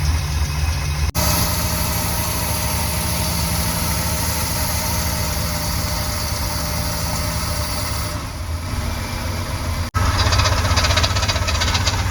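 A 454 big block engine in a camper runs steadily on a road test drive, a loud continuous drone with rumble and vibration that holds for about twelve seconds with brief dips, alone without talk.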